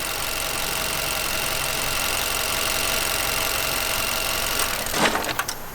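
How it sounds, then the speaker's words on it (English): A vehicle engine idles with a steady, loud drone that cuts out abruptly when the car is shifted into drive. A harsh stall follows, ending in a few rough knocks and a solid clunk. "I want you to see how harshly this thing stalls"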